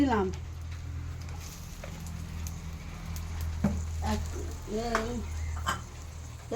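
Cauliflower is stirred in a pan of hot oil, giving a soft, steady sizzle and patter. Light scraping and clinks of a utensil sound against the pan, and someone talks now and then over the cooking.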